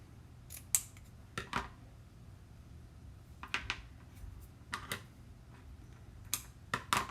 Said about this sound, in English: And then I'm just gonna cut it.